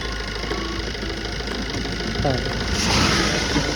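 A diesel Suzuki Swift car engine running in the rain after being refilled, a steady close drone with a constant wash of broadband noise that swells slightly louder toward the end.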